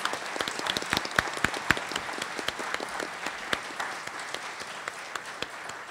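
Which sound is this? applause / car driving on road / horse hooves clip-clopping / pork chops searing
applause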